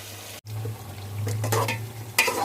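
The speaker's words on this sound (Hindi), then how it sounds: "तो अभी इनको भी भून लेते हैं अच्छी तरह से।" White brinjal and potatoes frying in a pot, a steady close sizzle with a few stirring scrapes and clinks of a spoon against the metal.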